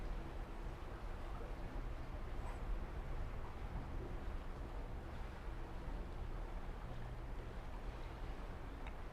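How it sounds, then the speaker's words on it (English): Water laps steadily against the hull of the cruise ship Harmony of the Seas on a warm afternoon at sea, a continuous low wash blended with wind and ship rumble, with no talking. "it's the sound of the water kind of lapping up against the side of the ship"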